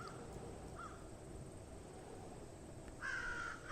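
Crows calling on an island, with a short caw early on and a louder, clearer burst of cawing near the end over a steady background of wind or surf noise.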